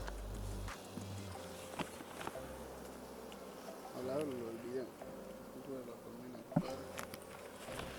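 Honeybees buzz faintly around an open beehive during a hive inspection, a steady low hum with occasional passing drones, while a person talks in the background.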